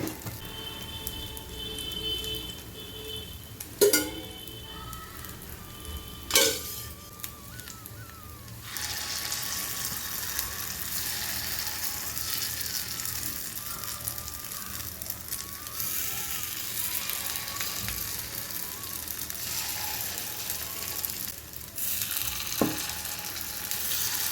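Rice appam made with kudaivazhai rice fries in sesame oil in a pan, giving a soft, steady sizzle that grows fuller after some clattering handling sounds early on, faint and close with no speech.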